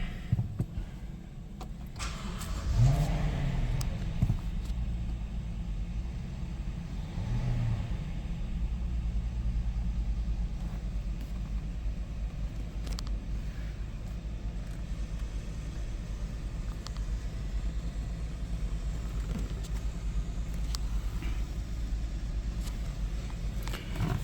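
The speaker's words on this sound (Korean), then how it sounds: "시동을 한번 걸어보겠습니다" 2018 Rolls-Royce Dawn starting up, with a brief cranking burst early on that settles into a low, smooth, steady idle rumble heard close up from inside the car.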